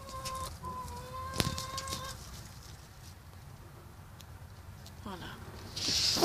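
Hens cluck softly in a backyard run beside their grassy patch, brief bird calls scattered over faint outdoor background, with a louder burst near the end.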